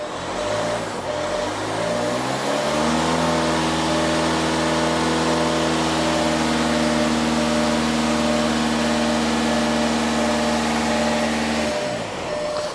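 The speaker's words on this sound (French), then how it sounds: "On va venir un petit peu accélérer." A car engine revs up and holds a high, steady drone during a DSG gearbox oil change, then drops back near the end, loud and close with no talk.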